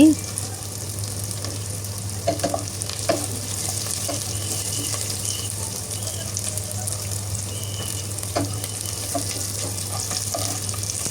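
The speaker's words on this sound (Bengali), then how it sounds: "খুব লাল লাল করে ভাজবো না হালকা করে ভেজে নেব হালকা হালকা করে ভেজে নিচ্ছি" Snakehead fish pieces fry lightly in a pan of hot oil, a soft continuous sizzle with faint scattered pops and stirring clatter, steady and fairly quiet, with no voices.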